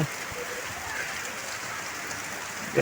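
A heavy downpour pours over an open yard in windy weather, making a dense, steady, close hiss of rain on surfaces with no break.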